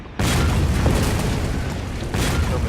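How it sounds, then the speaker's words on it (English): Cannons fire during a siege battle in Shogun 2, a dense roaring barrage of booms and rumbling that continues throughout with no break in loudness. "Come his cannons"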